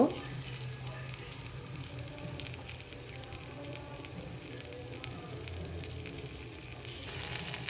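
Stuffed chillies and eggplant fry in a little oil in a pan, giving a steady close sizzle and crackle that carries on through the whole stretch with low background rumble and no voices.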